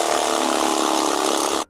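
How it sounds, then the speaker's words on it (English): A loud, buzzing jigsaw cuts a hole in siding, running continuously up close for under two seconds before stopping sharply. "jigsaw the big hole out."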